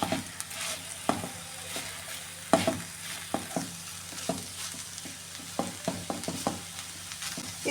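Long beans thoran, a Kerala stir-fry, is stirred in a pan with a spoon that scrapes and taps in an uneven, steady rhythm over a soft sizzle. The sound is close and moderately quiet, with no talking.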